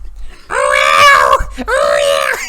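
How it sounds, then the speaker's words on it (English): Five-year-old child screaming loudly up close in two drawn-out wailing bursts with a brief break between them. "5-year-old just starts screaming."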